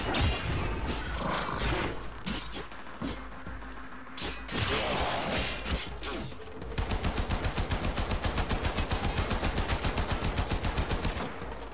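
Gunfire in the video game Warframe: scattered shots and bursts at first, then a long rapid automatic volley with an even, fast rhythm, loud and close.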